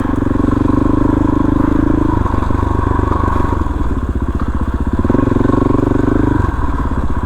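A motorcycle engine runs close and loud on a high-country mountain trail, a rough throbbing idle with rising and falling revs and some clattery mechanical noise.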